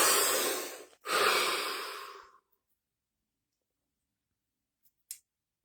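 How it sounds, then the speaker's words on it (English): A deep breath drawn in and then let out, two long, close breathy rushes, followed by silence and a faint click near the end. "Deep breath."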